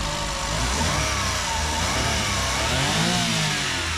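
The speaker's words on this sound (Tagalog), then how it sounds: "ito yung makina natin, K6A engine, 660cc, 12 valve, 3 cylinder inline" A 2013 Suzuki K6A 660cc twelve-valve inline three-cylinder engine in a mini van runs loud and close, its steady drone swelling in pitch as it revs, with no talking.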